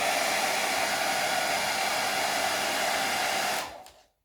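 A heat gun reheats carbon-look wrap film on a motorcycle fairing, blowing with a steady, close, airy whir for several seconds before switching off and quickly falling silent.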